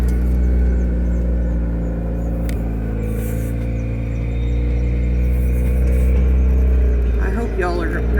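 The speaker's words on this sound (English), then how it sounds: "It's quite a bumpy ride, and I hope the engine noise ain't too much either." Engine of a Jeep rock crawler droning steadily as it drives over a bumpy dirt road, a loud continuous low rumble with jolts throughout, and a person talking over it.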